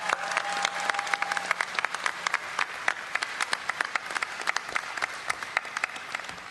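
Loud, dense applause from a large BlizzCon audience in a convention hall, steady clapping throughout with scattered sharp claps standing out.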